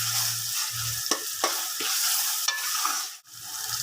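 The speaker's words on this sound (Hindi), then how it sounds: "ये ऐड करने के बाद हमने यहाँ पर टमाटर ऐड करे हैं। अब हम इसे अच्छी तरीके से इसकी भुनाई करेंगे।" Tomatoes and spices fry in a pan for an egg magaz curry, with a steady close sizzle and several scraping stirs of a spoon cutting through the hiss.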